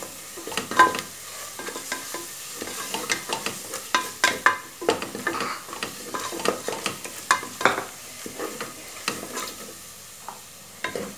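Steady crackling sizzle of onions being sautéed in a hot pan for a mushroom pulao, with frequent scraping clicks from a utensil, no voices.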